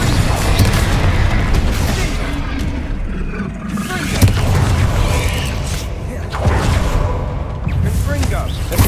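Confringo blasting spells explode in the video game Hogwarts Legacy, loud booming bursts landing repeatedly at irregular intervals amid clattering combat noise, with a voice speaking throughout.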